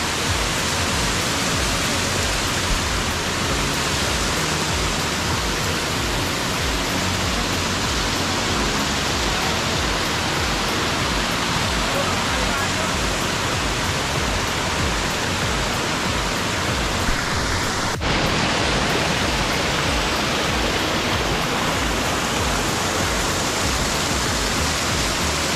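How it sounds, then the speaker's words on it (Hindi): Waterfall near Panchkula on the route to Dalhousie roars as a steady, loud, broadband rush of falling water, continuous and close throughout with no talk over it. "कभी भी आप डलहौजी आए तो पंचकूला में जो ये वाटरफॉल है ज़रूर आए।"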